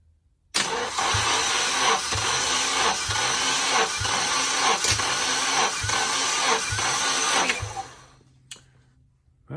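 Nissan 240sx engine cranking on the starter during a compression test, a steady rhythmic chug of about a dozen even compression strokes for roughly eight seconds, then the starter cuts off to near silence.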